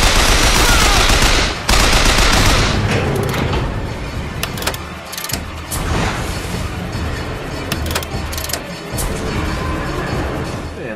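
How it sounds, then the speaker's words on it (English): Sustained machine gun fire from a firefight in Bioshock Infinite, loud dense bursts with heavy impacts and short gaps, continuing throughout. "Why are you shooting at me?"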